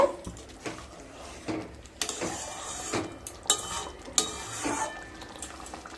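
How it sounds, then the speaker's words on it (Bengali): Egg curry being stirred in a pan after raw mustard oil is poured over it: repeated close scraping and clinking of a utensil against the pan, with a faint sizzle underneath and no talking. "এবার খুব ভালোভাবে মিশিয়ে নেব।"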